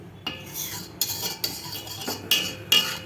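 A utensil scrapes the edges of a pan while milk cooks down for palkova. It makes a handful of irregular metallic scraping strokes, close and fairly quiet, with no voices.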